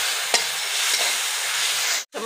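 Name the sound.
chicken masala frying and stirring in pan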